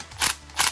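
Impact driver tightening a screw anchor into plasterboard: two short, loud mechanical bursts about a third of a second apart, close up.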